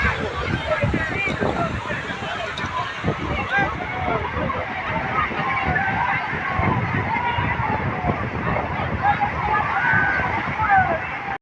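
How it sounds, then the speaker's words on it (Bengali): Sea waves rolling in at Digha beach at high tide, a continuous loud wash of surf with wind buffeting, and a voice speaking over it. "ঢেউটা দেখো আজকে কিন্তু সারাটা দিন এইভাবে জোয়ারের কারণে ঢেউ এসে যাচ্ছে"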